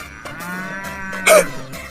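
A single cow moos close and loud, a low drawn-out bellow that ends in a sharp, rough burst.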